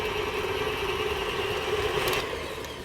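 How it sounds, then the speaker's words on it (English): Stand mixer motor beating molasses spiced cookie dough as an egg goes in, a steady mid-pitched whir with a brief clatter near the end, heard alone without talk. "turn the motor back on and add 1 egg"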